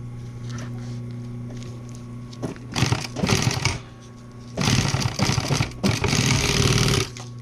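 A sewing machine stitches vinyl for a checkered upholstered bench, running in loud rapid mechanical bursts of about a second or two each, separated by quieter pauses with low background hum.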